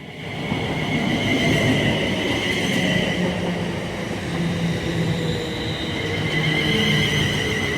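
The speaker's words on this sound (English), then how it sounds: "approaching now is going to be the 1312 London Midland service bound for Liverpool Lime Street from Birmingham New Street" A London Midland passenger train, unit 35127, passes through Hartford on the West Coast Main Line, a loud continuous rumble and roar of wheels on rails with a high metallic whine ringing over it, no voices.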